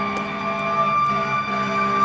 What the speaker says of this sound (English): Maybe that siren is reminiscent of how it was 30 years ago at this time